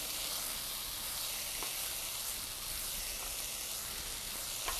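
Mushrooms fry in a pan over low heat, giving a steady, even sizzle and hiss that carries on alone with no talk.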